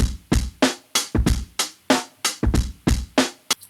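A hip-hop beat's drum loop pitched one semitone down, with crisp hits repeating in a tight, even groove of about a dozen strikes, loud and alone with no talking.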